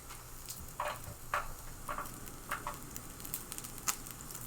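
A thick dry-aged steak sizzles quietly on a grill: a soft, steady hiss with scattered crackles and small pops, fairly faint and without voices.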